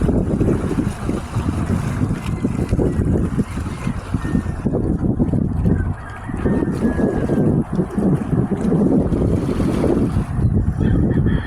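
Strong seaside wind buffets the microphone in continuous gusty rushes, with a low roar of surf underneath.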